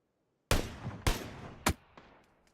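Three loud, sharp gunshots from a first-person shooter game ring out about half a second apart, each with a decaying tail, followed by a couple of fainter distant pops.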